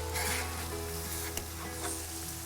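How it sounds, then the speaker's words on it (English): Broken eggs fry on a Blackstone griddle with a continuous close sizzle, steady and fairly loud, with a faint scrape partway through. "Now we're gonna break them. Let them cook down a little bit like this."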